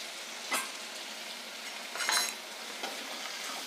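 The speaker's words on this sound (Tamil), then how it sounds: "இந்த தக்காளிலாம் நல்லா மசிய வேகட்டும்." Tomatoes with onion and green chillies cook in a pan, giving a steady faint sizzle broken by a few brief scrapes and stirring bursts, close and alone.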